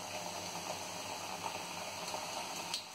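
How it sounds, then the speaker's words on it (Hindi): Namak pare dough pieces frying in hot oil, a steady close bubbling and sizzling hiss that continues evenly throughout with no talk. "और अब हम इसमें डालेंगे थोड़ा थोड़ा करके और इसको लाइट ब्राउन होने तक इसको अच्छे से हम फ्राई करेंगे।"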